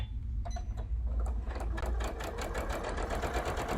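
Sewing machine chain piecing a quilt, running at speed with a fast steady mechanical needle patter, close and continuous.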